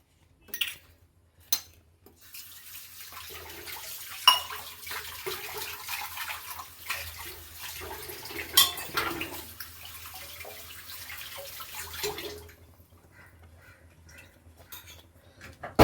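Metal dishes clatter and scrape under a running tap, with a stretch of steady water noise and scrubbing, then quiet at the end.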